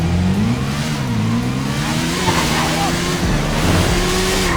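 A motorbike ridden in GTA 5 revs loudly and steadily, its engine note rising and falling up close, with a voice heard briefly alongside.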